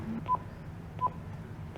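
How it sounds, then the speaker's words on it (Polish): Three short electronic beeps sound at an even pace from a broken apartment-building intercom keypad while a flat number is dialed, over a steady low background hum. "Domofon zepsuty, bo kiedyś tu normalnie dzwoniłem, a teraz cyferki coś popsute są"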